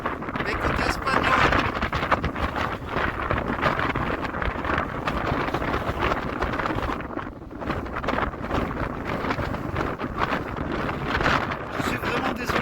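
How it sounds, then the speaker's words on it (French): Heavy wind buffets the microphone on the Alto del Perdón mountain pass in the Pyrenees foothills, a loud, continuous rumbling roar with gusty surges, while someone talks under it. "Je suis vraiment désolé pour le vent."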